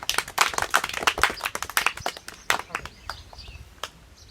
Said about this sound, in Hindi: ताली हो जाओ सर के लिए।